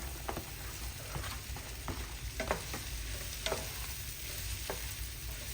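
Mushrooms hit a pan of peppers and onions frying for a cheese steak and potato pie, giving off a faint, even sizzle with small pops and ticks throughout and no talking.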